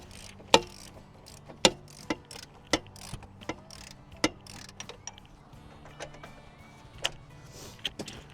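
A ratchet works a stuck bolt free from the upper control arm of a totaled Chevrolet Silverado, giving sharp, spaced metallic clicks and knocks at an uneven pace, faint and close with no talk.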